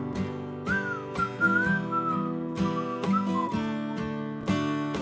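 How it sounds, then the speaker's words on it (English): An audience whistles a wavering melody over a steady musical accompaniment with repeated percussive hits, the whistling clear and sustained. "I want everybody to whistle now."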